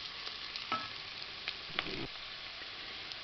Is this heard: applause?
no